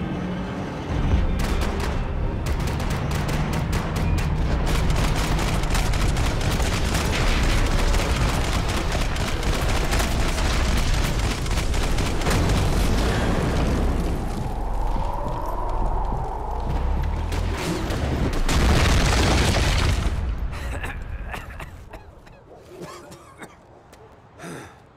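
Dense gunfire and explosions in the video game Max Payne 3, with rapid shots, heavy blasts and chaotic rumble running loud and continuous for about twenty seconds before fading out.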